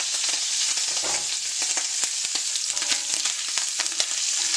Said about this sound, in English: it's spattering bacon and grease and stuff all over the place